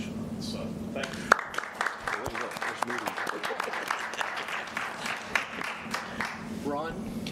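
Audience applause at a school board regular meeting, dense clapping from many hands filling the room steadily for several seconds, moderately loud, with a voice briefly heard at the start and end.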